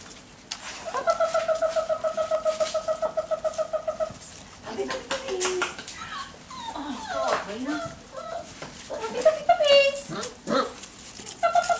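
A dog whines and yelps close by while a person talks to it, with a rapid pulsing series of calls in the first few seconds.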